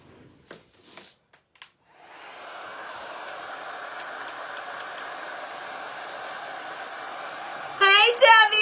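A heat gun blows hot air onto a WoodUbend moulding. A few scattered clicks come first, then a steady, close whooshing roar begins at about two seconds and holds to the end, with a brief squeaky flutter at the close.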